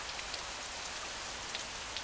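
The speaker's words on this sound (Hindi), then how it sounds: "ये बारिश यानी 7 साल फरावानी रहमत का आगाज हो गया है।" Steady rain falls in a dense, even hiss with scattered raindrop ticks, continuous and moderately loud throughout, no voices.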